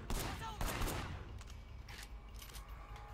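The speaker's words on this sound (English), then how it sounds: "Whoa, where am I getting shot from?" Gunfire in the Sleeping Dogs video game: a burst of sharp shots cracks out early, then tails off into scattered echoing reports and background noise.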